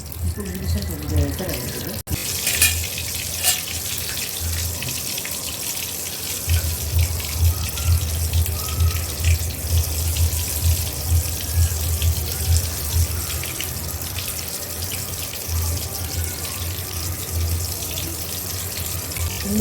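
Kitchen tap running continuously to wet hands while shaping prawn potli, a steady close splashing stream with soft rhythmic sloshing, alone for most of the stretch.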